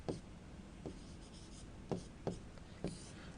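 Chalk or marker writes on a board during a classroom lesson, giving quiet scratchy strokes with a few sharper taps spaced irregularly over soft room noise.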